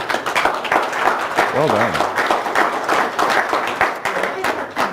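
Audience clapping in a lecture hall fills the whole stretch, steady and moderately close, with voices talking over it and a brief spoken remark partway through.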